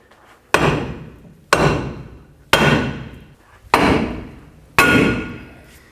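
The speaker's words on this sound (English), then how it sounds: "take your hammer and hammer right on these two little nubs on the knuckle" Five loud metal hammer strikes on the steering knuckle of a 2007-14 Chevy Silverado land about once a second, each ringing and decaying before the next blow, with no talking.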